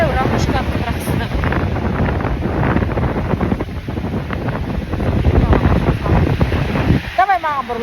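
Sea waves wash onto a shore along the South China Sea coast, a loud rushing surf mixed with wind buffeting the microphone, while people talk over it.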